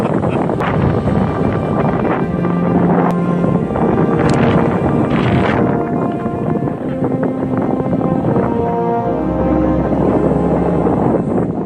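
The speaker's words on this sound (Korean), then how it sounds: "와 바람이 세네" Strong, continuous wind on a mountain ridge at Wolchulsan roars and buffets loudly against the microphone, a dense rushing noise with no clear pauses.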